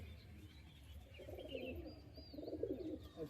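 Pigeons coo softly at a loft, a few low, burbling calls rising in two short bursts over faint background noise, quiet and fairly near.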